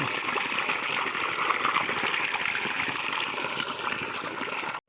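Irrigation water flows in a farm channel with a steady, close rushing wash that continues evenly and then cuts off abruptly at the end.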